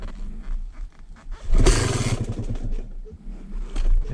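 A Yamaha YZ250 two-stroke dirt bike, running rich and hot, kick-started: a loud burst roars up at about one and a half seconds then settles into a rough, uneven idle that fades and swells to the end.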